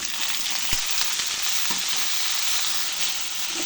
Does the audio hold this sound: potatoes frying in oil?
yes